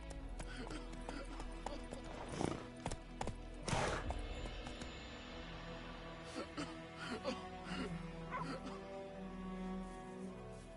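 Roach the horse gallops in The Witcher video game, a run of rhythmic hoofbeats with a few louder thuds, set against a steady tonal game background.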